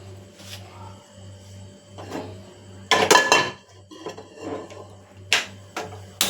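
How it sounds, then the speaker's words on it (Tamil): A cooking pan set down on a stove before mutton gravy is made. A few close metallic clunks and scrapes rise over a low steady hum, with the loudest cluster near the middle. "சட்டி அடுப்பில் வைக்கிறேன்."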